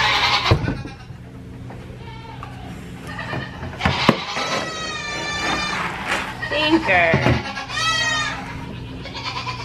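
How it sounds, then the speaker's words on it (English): Goats bleating on a homestead, the smallest one loudest, with several sharp, wavering bleats spread across the morning scene over a low background hum, while a person talks between the calls. "my tiniest goat is the loudest, definitely, this morning"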